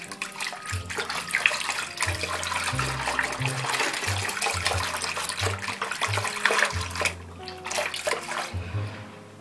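Hands swish soapy water around in a sink while washing wool nursing pads: continuous close sloshing and splashing with rhythmic surges, loud and steady, no talking.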